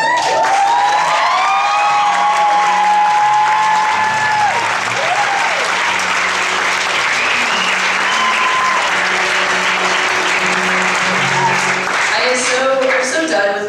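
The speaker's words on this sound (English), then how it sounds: "you might want to clap a little bit." An audience at a small acoustic concert venue claps steadily and loudly, with some cheering and scattered shouts mixed in, while a voice talks over the start and the applause continues throughout.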